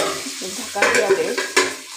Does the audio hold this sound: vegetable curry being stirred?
yes